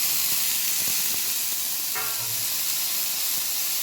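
Two tomatoes going into a hot pan for vegetable dal, a steady soft hiss and sizzle that runs continuously from start to finish.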